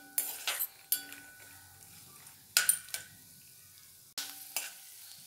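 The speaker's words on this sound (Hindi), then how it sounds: "इसमें इस मूंगफली को भून कर निकाल लेंगे।" Peanuts roasting in a spoonful of oil in a pan, crisp sizzling bursts and rattling scrapes as a spoon stirs them, coming in repeated close bouts with quieter frying between.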